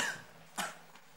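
Two short, faint coughs a moment apart, the first rough and breathy, the second sharper, in a quiet room.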